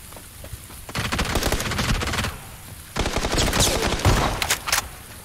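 A P90 submachine gun fires in the video game PUBG: two long bursts of rapid automatic fire, close and loud, separated by a short pause, with no talk.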